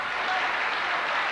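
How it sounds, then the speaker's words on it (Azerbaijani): Applause from an audience at a live storytelling performance, a dense, even burst of clapping that holds steady for just over a second. "Sizin alqışlar Ruzla."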